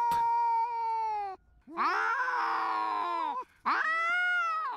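Two cats in a fight, one fitted with a GoPro, let out loud, close caterwauling yowls; three long, wavering howls rise and fall with short pauses between them and no voices.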